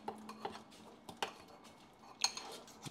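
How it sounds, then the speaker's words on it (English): A spork presses and mashes avocado for lemon guacamole, giving a few quiet, scattered metallic clinks and scrapes against a bowl, close and faint with no talk. "I'm taking the spork and I am pressing down. And what this is doing, it is flatterizing the avocado"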